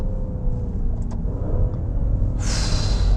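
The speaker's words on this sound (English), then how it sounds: "the sound is simply sensational" A 2023 Maserati Levante Trofeo engine on the move, a steady loud low rumble from inside the car with a rising whine near the end as the driver downshifts, no talking.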